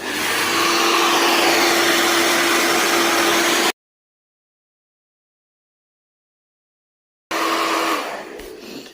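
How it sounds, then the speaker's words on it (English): A hairdryer blows on a leather sofa being repaired for cracks, a loud steady whooshing hum that cuts out abruptly, leaves a gap of silence, then returns briefly and fades. "And then if I just grab my"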